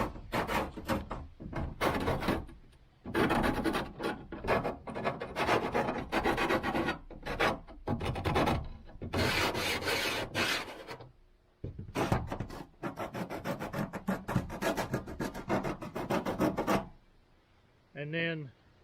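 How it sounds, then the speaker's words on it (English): A piece of 80 grit sandpaper laid on scrap wood rasps against freshly cut metal to knock off burrs, repeated scraping strokes in bursts with short pauses and a faint squeak at the end. "I've got just a piece of 80 grit sandpaper. You can use whatever you have, just on a piece of scrap wood."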